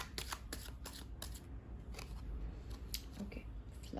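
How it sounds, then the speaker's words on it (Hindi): Tarot cards being handled and drawn from a deck: a quick series of soft, crisp flicks and slides close by, irregularly spaced, faint against a quiet room. "एक और कार्ड मैं ले लेती हूँ।"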